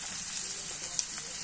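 Carrots go into softened chopped onion and chilli frying in a pan, giving a soft, even sizzle with faint stirring crackles, quiet and close.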